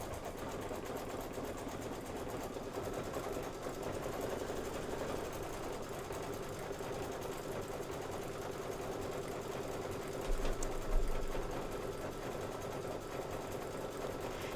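An embroidery machine stitches out the red stripes of a Kimberbell Sweet Land of Liberty flag, giving a steady, fast mechanical whir with a brief louder bump near the end; no one speaks.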